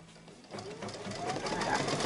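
An embroidery machine stitches a placement line for piece 7 of a Kimberbell cozy wall hanging, starting as a steady mechanical whir that grows louder and denser, with rapid stitching pulses continuing throughout.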